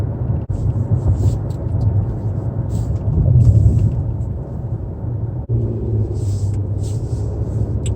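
Nissan Murano SUV with a six-cylinder engine heard from inside while driving, a steady low drone and road rumble that swells briefly mid-way, with faint clicks over it.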